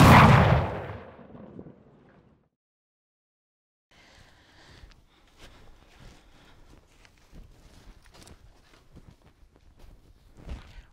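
A single loud cannon blast from a tightly packed charge fires aboard the Maryland Dove ship, then decays into silence, followed by faint footsteps and deck noises at a maritime festival.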